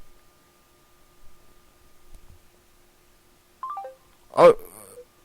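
Telephone tones sound while a dropped call is redialed, with a short clipped tone followed by a louder burst of ringing or dialing against near silence, and faint low thumps earlier on.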